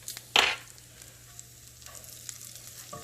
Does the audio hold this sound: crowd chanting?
no